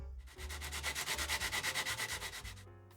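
Card shell of a model railway building, its joints hardened with dried PVA, being sanded by hand in steady rapid back-and-forth strokes, close and fairly loud, with no one speaking.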